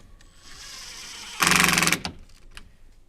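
Screws driven into brackets on a large garden building, a loud burst of mechanical whirring lasting about half a second, followed by a few short clicks and a quieter mechanical hum before it.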